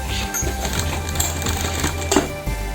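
A sewing machine runs steadily, stitching a double piping border along a sleeve, with a continuous rapid mechanical clatter throughout and no talk.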